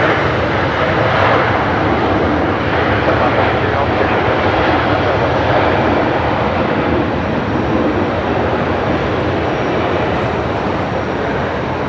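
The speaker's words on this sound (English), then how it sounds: "Velocity 341 coming in from Melbourne" A Virgin Australia airliner arriving at Brisbane Airport from Melbourne gives a broad, steady engine roar that holds loud and even throughout, with people talking faintly underneath.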